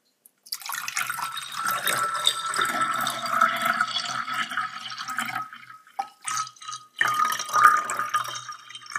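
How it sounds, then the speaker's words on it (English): Water is poured into a glass and picked up by a homemade contact microphone, giving a close, bright, trickling and sloshing pour that runs steadily, breaks off briefly, then resumes. "Let's pour some water in."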